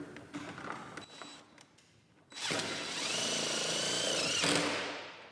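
A 3/8 inch power driver sinks a screw into a post beam bracket, a loud steady whirring burst of about two seconds that tapers off, preceded by a few soft handling clicks.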